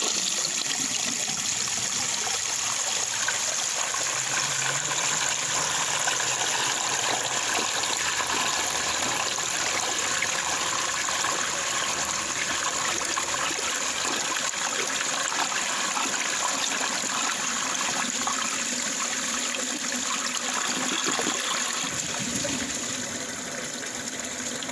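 A 1989 Crane Radcliffe toilet with an overfilled tank flushes in a loud, close, sustained rush of gushing and trickling water that runs continuously throughout, easing slightly at the end.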